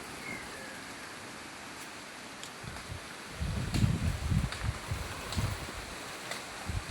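Heavy rain falls outside a house courtyard with wind, a soft, steady hiss that swells into gusty low rumbling roughly halfway through.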